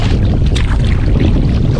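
Strong gusting wind buffets the microphone on open water while kayaking, a loud unbroken roar with splashing waves mixed in, no voices.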